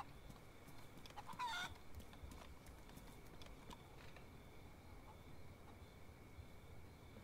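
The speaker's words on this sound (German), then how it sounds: "Da ist ein Huhn sogar hier dabei." A chicken in the video game DayZ gives a brief, faint cluck over a noisy, busy game background, with no other clear sounds standing out.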